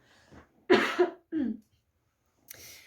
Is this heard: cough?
yes